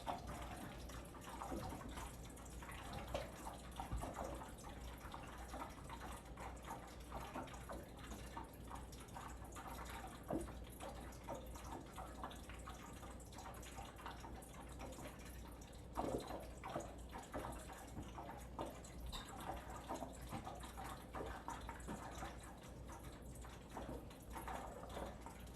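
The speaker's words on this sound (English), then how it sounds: "that would be a babbling brook, or a place in a stream where there are rocks causing this lovely waterfall effect" A babbling brook gurgling and bubbling over rocks, a steady close wash of trickling water with scattered drips and splashes throughout, no talk.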